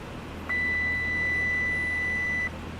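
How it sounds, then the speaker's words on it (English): A single steady electronic avionics beep from a Cessna 172 in Microsoft Flight Simulator X, holding for about two seconds over a low cockpit engine hum. "We get the beep."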